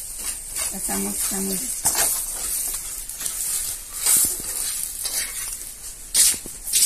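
Dry roti frying in hot oil in a home kitchen, giving a steady close sizzle and hiss with occasional stirring scrapes and brief louder crackling bursts.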